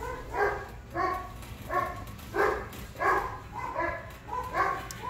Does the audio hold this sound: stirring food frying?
no